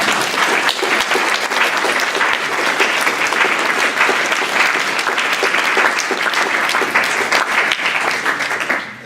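An audience at a poetry reading series breaks into sustained, dense applause that holds steady and loud for several seconds, then begins to fade at the very end.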